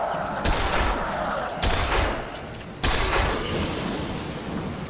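Three heavy gunshots in Dead Island, each a sharp broadband crack with a long rumbling tail, spaced about a second apart and loud against a noisy game background, with a voice faintly present.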